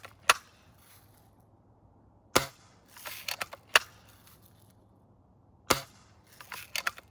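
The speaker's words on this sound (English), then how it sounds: "Okay, I seem to be shooting to the left right now." Shots from a modern Annie Oakley Little Sure Shot reproduction gun, a handful of sharp, dry snaps spaced a second or more apart, some followed by brief clattering handling noise, with no talking.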